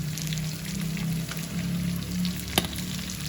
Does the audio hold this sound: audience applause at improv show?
no